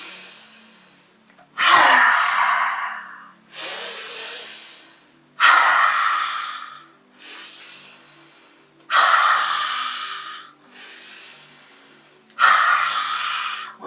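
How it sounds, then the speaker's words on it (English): Deep yoga breathing during a facial release practice: a slow series of strong breaths, some sharp and forceful, others softer, spaced evenly a second or two apart and heard close up with no talking. "So inhale."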